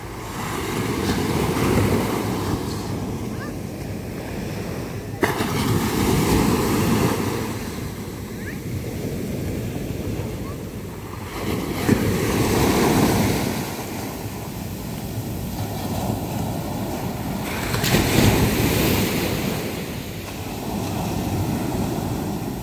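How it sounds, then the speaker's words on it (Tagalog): Ocean waves in June in the Philippines surge and break in repeated swells every few seconds, with wind buffeting the microphone between crashes. "mga alon."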